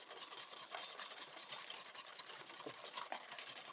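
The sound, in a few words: stirring ricotta donut batter mixture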